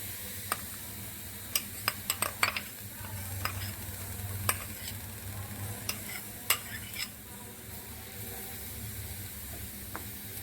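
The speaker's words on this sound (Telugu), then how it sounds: "కొద్దిగా ఆయిల్ వేడెక్కిన తర్వాత మనం ఇప్పుడు ఆనియన్స్ని వేసేసుకున్నాం" Onions fry in hot oil over a medium flame while a spoon stirs them in the pan, giving a steady low sizzle broken by scattered sharp clicks and scrapes of the utensil against the metal.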